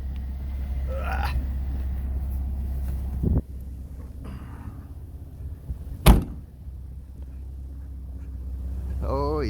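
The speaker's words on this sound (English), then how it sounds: "Oh yeah, there's some wind coming in here." Blizzard wind pushing into a building beside a Jeep, a steady low roar throughout with a door-like thud near the start and a sharp gust or bang later, voices briefly present.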